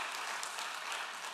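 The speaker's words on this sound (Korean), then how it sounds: "지휘자 우리 한번 박수 한번 하겠습니다." A church congregation applauding the choir conductor during a Sunday afternoon service, a brief, even wash of distant clapping at low volume.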